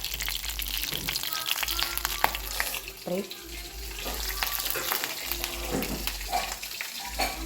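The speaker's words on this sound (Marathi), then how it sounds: "तेल आता हे एवढं गरम होऊ शकतं. आता मॅगी मसाला टाकायचा." Hot oil sizzles and crackles in a pan on a home stove as Maggi masala seasoning goes in, a steady close frying hiss with scattered pops and clinks throughout.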